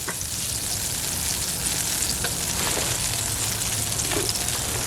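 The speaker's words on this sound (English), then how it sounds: "A little bit of boudin in the pan." Boudin sausage frying in butter in a pan, a steady dense sizzle with fine crackles running loud and close throughout, no voices.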